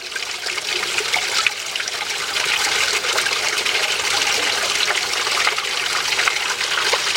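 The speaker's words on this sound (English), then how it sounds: "The water level's dropping." Continuous rushing, trickling water drains steadily at close range, a broad hiss holding level throughout with no talking.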